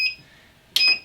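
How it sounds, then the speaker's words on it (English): A heat press timer sounds off with a shrill electronic beep, one tone fading at the start and another sharp beep starting near the end, loud and close with no speech. "And the timer's gone off."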